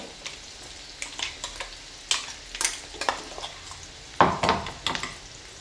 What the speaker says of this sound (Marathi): कांदा मस्त गुलाबी रंगाचा होऊ द्यायचा आहे